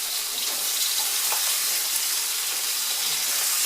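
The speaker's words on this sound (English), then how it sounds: "So our onions are in, and I'm just going to toss" Onions sizzle and are tossed in a hot skillet, a steady close hiss of frying oil with faint crackles running continuously.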